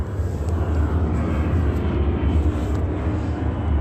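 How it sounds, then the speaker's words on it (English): Steady broadband engine roar of an airplane flying overhead, continuous and fairly loud for the whole stretch with no talking. "another plane."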